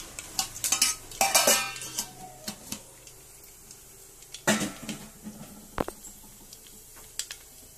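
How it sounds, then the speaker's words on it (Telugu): Cumin and mustard seeds hit a small amount of hot oil in a pan, giving scattered crackles and light metallic clinks of a spoon stirring, in bursts separated by quiet gaps. "జీలకర్ర ఆవాలు వేసుకోవాలి"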